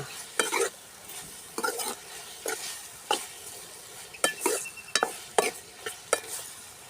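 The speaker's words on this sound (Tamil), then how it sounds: "நல்லா வதங்கிடணும் வெங்காயம்" Repeated scraping and stirring in a pan, about a dozen strokes at an uneven pace, over a soft sizzle of onions cooking.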